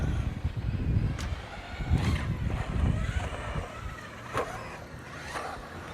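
ST4G3 RC truggy driving around a dirt track, its small motor whining and revving in uneven bursts at close range, mixed with wind buffeting on the microphone and occasional knocks and impacts.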